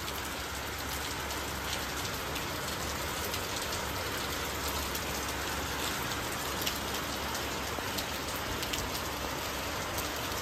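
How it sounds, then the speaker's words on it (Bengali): Rain falling steadily on surfaces, a constant close patter of drops that stays even and unbroken throughout, with no voices. "ছিরি ছিরি ঝর্ণা ঝরে, কত বৃষ্টি, বারিশ বারিশ।"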